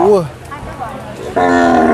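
Cattle at a livestock market moo loudly nearby: one short low call, then a second long, strong moo that carries to the end.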